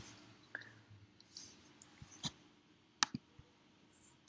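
Faint, quiet mouse clicks over a low background hum, with a few isolated sharp clicks spread out and one brighter click near the end, no talking, while downloading an Android system image in Android Studio.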